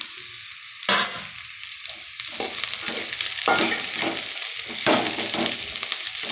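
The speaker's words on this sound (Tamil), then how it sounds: "இப்போ நம்ம கட் பண்ணி வச்சுருக்கிற தட்டக்காயை சேர்த்துக்கலாம்" Chopped thattakkai tipped into a pan of golden sautéed onions for a stir-fried poriyal, the frying hiss jumping louder in steps and then crackling steadily with occasional stirring scrapes.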